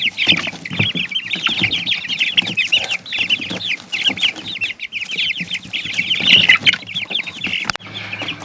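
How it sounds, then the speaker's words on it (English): Crowded young pullets in a cramped coop cluck and chatter continuously, a dense overlapping chorus of close, fairly loud calls with scattered scratching and no talking. "10 very cramped pullets"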